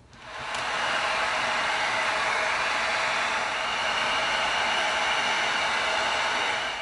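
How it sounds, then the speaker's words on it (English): A heat gun blows steadily on EVA foam to open up creases in a craft build, a loud, even hiss of rushing air that starts abruptly and holds at constant strength to the end. "now we're going to use the heat gun and it's going to open up these creases"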